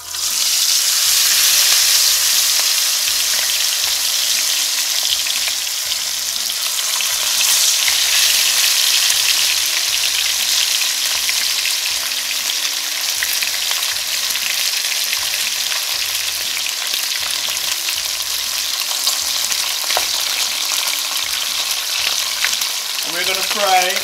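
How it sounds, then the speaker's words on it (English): Fish frying in hot oil for a Jamaican curry rundown, a loud, dense, continuous close sizzle and spatter lasting throughout, with brief faint handling noises near the end. "now that the oil is sufficiently heated, we're gonna add the fish"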